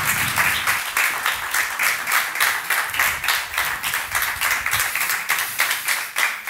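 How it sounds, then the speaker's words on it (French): Audience applause welcoming speakers, a steady run of rhythmic, fairly even clapping from a modest crowd, close and continuous throughout. "Vous pouvez les applaudir."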